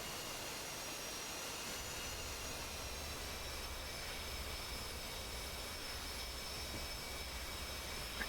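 Navy jet aircraft touching down mid-runway in a flight simulator game, a steady broadband jet engine roar holding at moderate level throughout with no voices, ending in a brief sharp peak.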